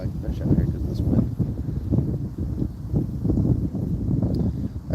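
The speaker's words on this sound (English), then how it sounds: "The wind's pretty bad." Strong wind buffets the microphone outdoors during winter trout fishing. The low, gusty rumble rises and falls continuously and stays loud throughout.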